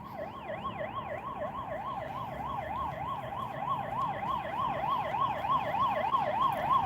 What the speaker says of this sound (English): Pray for the soul in that ambulance, guys.